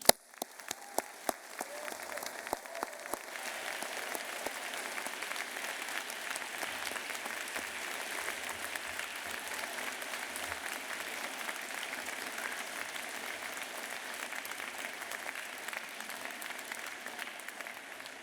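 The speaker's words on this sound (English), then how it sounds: "let's start today's ceremony by giving all our amazing graduates a huge round of applause" Audience at a university degree ceremony giving the graduates a long, steady round of applause, a dense wash of clapping that swells after a few seconds and holds evenly, heard from within the hall.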